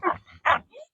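Several goats and dogs at feeding time give two loud close barks or yelps followed by a softer rising whimper, in short bursts.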